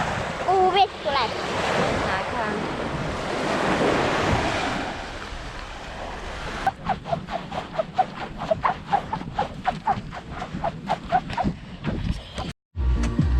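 Waves wash onto a sandy beach with a loud, wind-buffeted surf roar at first, then the sound breaks into a series of sharp, irregular rustles and thumps close to the microphone, with a voice briefly audible.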